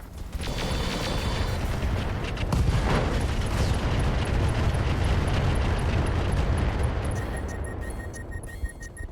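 Heavy weapons fire and explosions from a RogueTech battle: a dense, sustained roar of booms and rumbling blasts, loud and continuous, with small mechanical beeps near the end.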